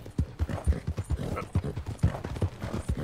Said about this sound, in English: horse is getting pretty tired